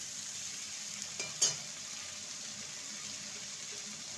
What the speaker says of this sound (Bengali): মশলাটাকে ভালো মতন কষিয়ে নেব।